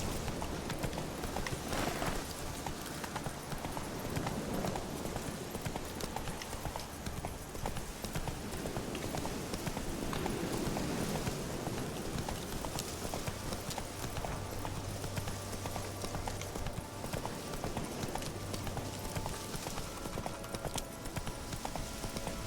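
Hooves of a horse clip-clop in a fast, continuous galloping rhythm during The Witcher 3: Wild Hunt gameplay, steady and close throughout with game ambience underneath and no talking.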